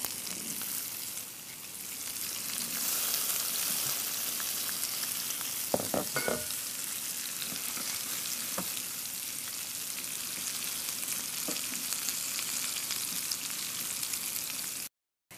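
Sunchokes sizzle steadily in hot oil in a pan, a continuous broadband crackle with a few brief utensil clinks and scrapes partway through.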